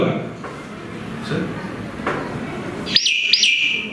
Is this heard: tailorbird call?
yes